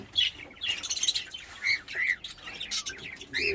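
Small pet budgies chirping and squawking indoors in quick, bright bursts, close and moderately loud, with no talking.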